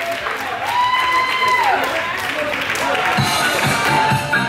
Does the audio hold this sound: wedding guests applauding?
yes